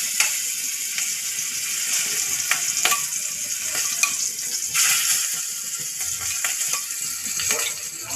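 Prawns frying in hot oil on a tawa for a hotel-style prawn tawa fry, a steady close crackling sizzle with occasional sharper pops and spatters, no talking.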